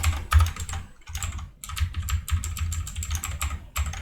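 Rapid typing on a computer keyboard during game development work, close and crisp, with irregular bursts of keystrokes broken by brief pauses.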